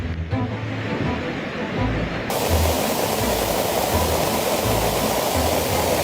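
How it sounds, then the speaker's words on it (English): Violent floodwater of the Gear River in Valois, a roaring continuous rush of churning water that grows louder and fuller partway through and stays constant and close to the end, with no voices. "the Gear River flowed so violently that it swept away a car in seconds as if it were a toy"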